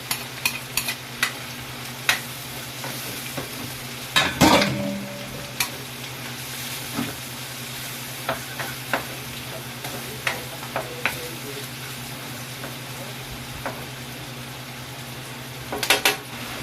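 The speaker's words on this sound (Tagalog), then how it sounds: "Igisa natin yung sibuyas sa kabawang." Onion and garlic sizzle steadily in a hot pan while being sautéed for adobo, with a constant frying hiss, scattered clinks and scrapes of a utensil against the pan, and a louder stirring clatter midway and near the end.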